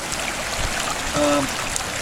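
Creek water running steadily beside a woodland campsite, a continuous close rushing trickle that fills the clip with no voices.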